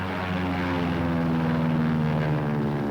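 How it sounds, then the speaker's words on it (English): Propeller training airplane taxiing into takeoff position on an army airfield used for short-field practice, its engine droning steadily and loudly throughout with a continuous harmonic hum. "Now, this plane taxiing into position."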